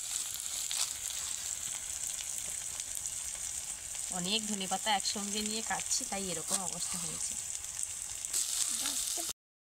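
Onion and garlic fry in a pan with a constant soft sizzle and hiss in the background while a person talks over it.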